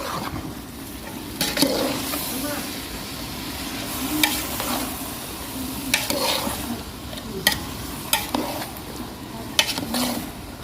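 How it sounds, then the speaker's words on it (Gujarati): Mixed vegetables fry in oil in a pan while a spoon stirs them with repeated scraping clacks at irregular intervals. A continuous low sizzle runs underneath, close and fairly quiet, with no talking. "તો થોડોક તાપ રાખશું અને ફ્રાય થવા દેશું તેલમાં. એકવાર હલાવી નાખીએ આપણે."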